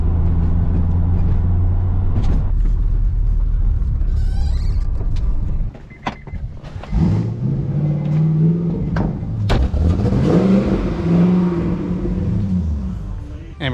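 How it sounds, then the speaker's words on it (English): Car driving on the road, a steady loud low engine drone and road rumble throughout, with shifting engine pitch and a few clunks partway through. "I've already driven about an hour and a half, and we're almost there."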